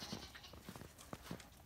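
Goats bleat from a farm pen on a snowy Virginia evening, several short faint calls scattered across the moment against a quiet outdoor background.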